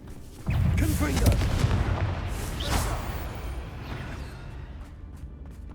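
Confringo spell blasts in Hogwarts Legacy, a sudden loud booming explosion followed by rumbling debris and a second softer blast, fading into a low roar, with a voice briefly present.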